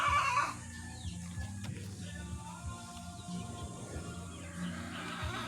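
Chickens with newly hatched chicks clucking and peeping softly throughout, fairly faint and steady at close range, with no talk.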